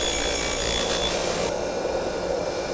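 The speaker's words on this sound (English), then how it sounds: "I'm gonna hit this again on the wheel." A wire wheel scours surface rust off a Revel running board bracket, a loud continuous abrasive whir and scraping close by that drops in brightness midway, with no talk.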